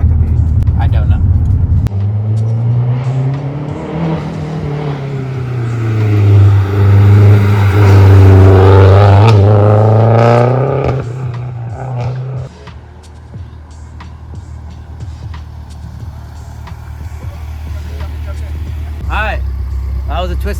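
A Mazdaspeed 3 car with adjusted coilovers launches from a dig, its engine rumbling and rising in pitch as it revs hard and pulls through the gears, loud and close, then settling back to a low idle.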